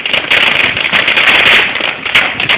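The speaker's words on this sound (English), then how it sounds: "No, that's the fireworks." Fireworks crackling and popping in a dense, continuous burst outdoors, bright hissing bursts at a steady loud level with a few sharper spikes, no talking.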